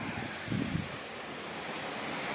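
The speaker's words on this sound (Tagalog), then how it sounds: "Sobrang lakas ng hangin." Steady, roaring typhoon wind in Lipa, Batangas, Philippines buffets the microphone, with a broad rushing noise and a brief gust-like thump early on.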